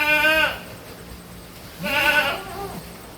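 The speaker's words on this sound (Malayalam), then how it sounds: "നല്ല വലുപ്പമുള്ള ഈശ്വര ആട് കേട്ടോ" A large crossbred goat bleats twice, loud and close, with a pause between the calls and no talk over them.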